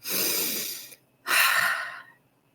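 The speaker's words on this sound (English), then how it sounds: "Let's do the cleansing breath." Two deep, audible breaths, a long airy exhale followed by another after a short pause, taken as a cleansing breath for active labor, close and quiet with no talking.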